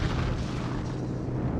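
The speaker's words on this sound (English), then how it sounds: "Napalm bombs contain different types of acids that mix with aviation gasoline to produce an incendiary jelly" Napalm bombs dropped by P-47 fighter bombers exploding in a WWII battle, a loud, dense, continuous roaring rumble heard up close with no pause and no voices.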